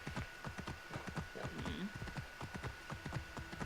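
Horse hooves clip-clop steadily in the video game Assassin's Creed Origins, a quick, even run of close, crisp hoofbeats continuing throughout.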